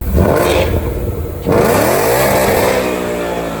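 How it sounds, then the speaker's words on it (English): A Ford Mustang's 5-liter naturally aspirated Coyote V8 revs hard and loud, rising in pitch with a brief dip before climbing again, close by with a roaring, throaty tone. "the 5-liter naturally aspirated Coyote V8 that sounds just glorious"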